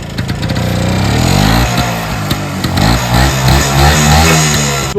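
A Rajdoot motorcycle's single-cylinder engine sputters to life and settles into a loud, steady, close-up idle with a fast, uneven putter throughout.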